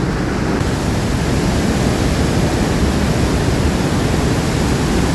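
Water rushes down Trümmelbach Falls inside the mountain at Lauterbrunnen, a loud, unbroken roar that fills every moment without pause.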